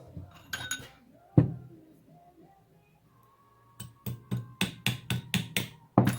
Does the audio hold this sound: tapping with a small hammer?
yes